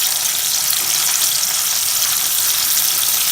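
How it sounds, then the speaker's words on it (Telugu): Bitter gourd pieces, boiled in buttermilk and cut up, deep frying in hot oil give a loud, continuous, even sizzle up close with no pauses. "కొంచెం బ్రౌన్ కలర్ వచ్చేంత వరకు డీప్ ఫ్రై చేసుకోవాలి."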